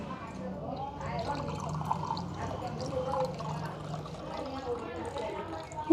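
Water splashes and trickles out steadily, with voices talking loudly over the flow throughout.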